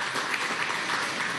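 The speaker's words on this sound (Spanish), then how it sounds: "Solicito un aplauso muy especial para usted de bienvenida." Audience applause welcoming an official at a meeting of the high commission for Guayana Esequiba, a steady, dense wash of many hands clapping, moderately distant and continuous throughout.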